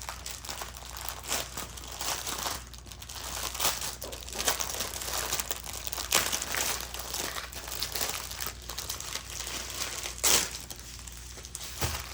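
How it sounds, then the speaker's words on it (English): Plastic wrapping on a soft-backed diamond painting sheet crinkles continuously and close up, with steady rustling and a few sharper crackles, no talk. "So excuse the crinkling."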